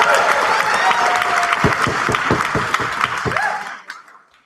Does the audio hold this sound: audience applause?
yes